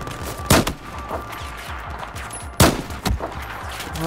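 Sharp gunshots crack at intervals in the video game Battlefield 4 over a steady low rumble of game background noise, loud and close, with two or three distinct bursts.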